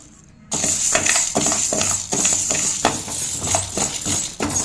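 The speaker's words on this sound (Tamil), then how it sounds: "ஒரு கடாயை வச்சுக்கலாங்க கொஞ்சம் வறுத்து எடுத்துக்கலாம்" Black urad dal dry-roasting in a kadai over a gas flame, with a steady run of rattling, clinking scrapes as the grains are stirred against the pan, close and fairly loud.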